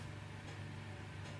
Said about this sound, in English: That's the sound of a working oven.